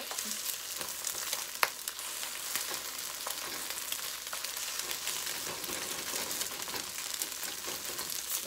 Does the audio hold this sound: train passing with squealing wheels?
no